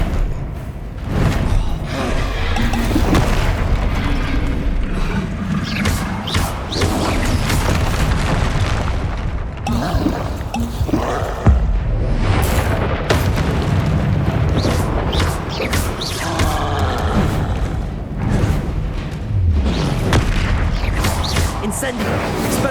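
Confringo explosion spells in the video game Hogwarts Legacy burst in repeated loud booms over a dense, continuous battle mix, with a voice shouting spell names throughout.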